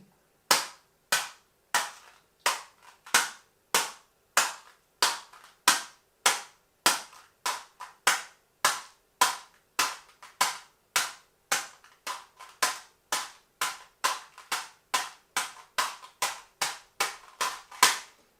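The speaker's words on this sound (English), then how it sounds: "we've got this sound we're getting from the upward stroke of the fingers, which are flipping up like this" Sharp percussive guitar strokes in a samba rhythm, fingers flicking upward against the strings, form a steady train of about thirty crisp, close slaps with clean gaps between them and no voice.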